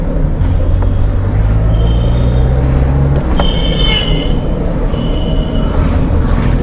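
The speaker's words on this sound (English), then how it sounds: "This is the pull in the second gear, and now I have given it to the third." A 26-year-old Maruti 800 pulls hard in third gear, its engine drone rising steadily inside the cabin over heavy road rumble, with a brief squeal partway through.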